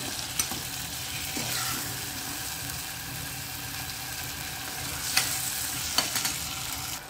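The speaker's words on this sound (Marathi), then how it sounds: "आता आपण छान परतून घेऊया मसाल्यांमध्ये। 1-2 मिनिटे असाच आपण परतून घेऊया।" Lima beans (val) being sautéed in spices in a pan, a quiet steady sizzle with a few light clinks of a stirring spoon against the pan.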